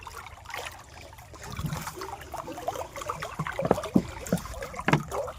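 Canal water running alongside a farm field being irrigated for millet: a steady rushing, trickling wash that holds throughout, with scattered splashy knocks growing more frequent toward the end.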